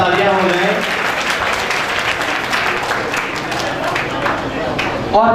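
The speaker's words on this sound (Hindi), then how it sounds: "जोरदार तालियां हो जाए।" Loud, dense applause from the audience at a computer education institute's annual celebration, continuous and close with no letup, and a speaking voice briefly heard near the start.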